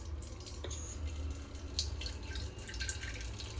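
Water is tipped off washed rice while making chicken biryani, a faint trickle and dripping into a sink that runs quietly and unevenly, with small splashes over a low background hum.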